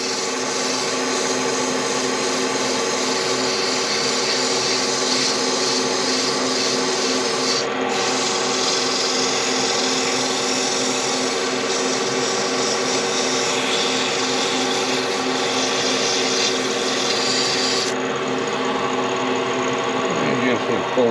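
Dogwood slimline pen blank sanded on a lathe, moving up through sandpaper grits: a steady, close rubbing hiss with a constant motor hum running unbroken beneath it, a brief pause in the scratch midway and near the end.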